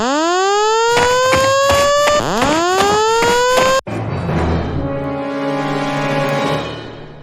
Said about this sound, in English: someone pulled the fire alarm multiple times